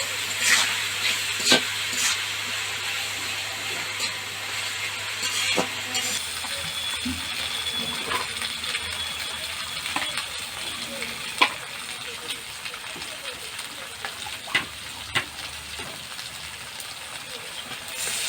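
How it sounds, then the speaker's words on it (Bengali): Goat meat fries in a pan after salt is added, stirred with a steady sizzle and recurring scraping clatters of the spoon, close by and continuous. "তো এখানে লবণ দেয়া হলো, এরপর নেড়ে নেওয়া হচ্ছে"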